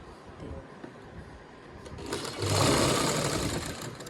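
Sewing machine stitching a stiff buckram cuff (muri), a steady mechanical whir that swells louder after a quieter start, running alone without talk.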